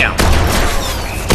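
Shotgun fire in the Destiny alpha, two loud close blasts, one at the start and another near the end, with a brief decaying tail between them.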